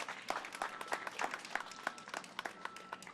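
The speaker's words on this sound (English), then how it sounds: "So please give him a round of applause for all the support." Applause at an outdoor park ribbon cutting in Los Angeles, a scattered crowd clapping for maintenance staff, with sharp individual claps standing out over a steady patter for about three seconds at moderate distance.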